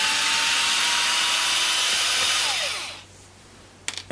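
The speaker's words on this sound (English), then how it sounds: "So let's get all these screws out." A power driver whirs steadily as screws come out of the chassis of a Kenwood KRF-V5560D home theatre amplifier, a loud continuous motor buzz that winds down near the end, followed by a few light clicks.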